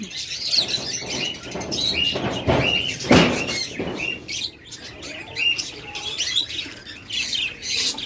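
A flock of budgerigars kept at a bird seller's chirps and twitters constantly, with overlapping close and distant calls, occasional sharper squawks and brief wing flutters.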